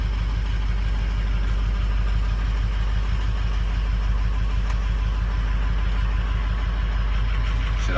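A Harley engine on a cold start runs steadily at idle, a loud, continuous low throb with an even pulsing rhythm close to the microphone.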